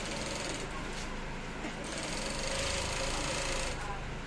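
A sewing machine stitching a trouser front pocket, a fast steady whirring rattle close up, running continuously at even loudness with a voice speaking over it.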